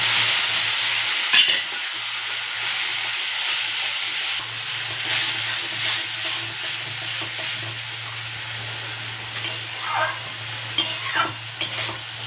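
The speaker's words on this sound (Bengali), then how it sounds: "এবার জল দিয়ে মশলাটাকে কষিয়ে নেব।" Spices stir-fried with a splash of water in a pan for a fish head curry, giving a steady close sizzle and hiss with frequent scraping stirs and a few sharp clinks of the utensil.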